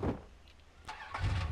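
A car engine cranking and catching in Far Cry 3, a short burst of starter noise, a brief pause, then the motor turning over and rumbling to life close by, with no talk.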